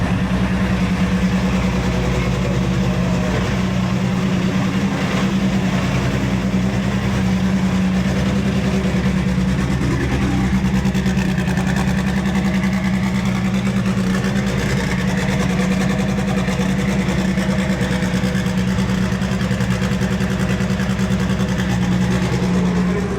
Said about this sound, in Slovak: jeden z tých závoďákov sa v boxe naštartoval